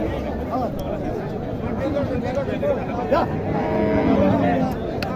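A Sahiwal cow lowing amid the bustle of a rural cattle market in Naogaon, a low moo sounding near under busy crowd chatter and close voices talking.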